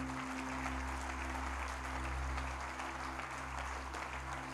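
Applause from a church congregation during a Spanish-language sermon on sowing and reaping, a steady wash of clapping held at an even level for the whole stretch, with a low hum underneath.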